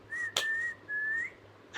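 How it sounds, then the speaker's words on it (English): A person gives a normal, clear, steady-pitched whistle in two sustained notes separated by a short pause, close and fairly loud, with a brief click between them and no speech. "you can whistle like this. This is the normal one."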